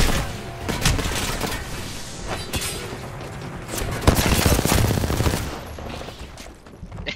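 Rapid bursts of automatic gunfire and heavy booms in a shooter video game crackle densely and loudly, overlapping in sustained volleys with little pause.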